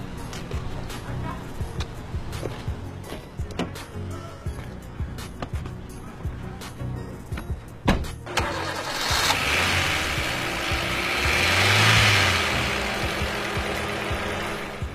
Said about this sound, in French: Démarrez le moteur s'il vous plaît.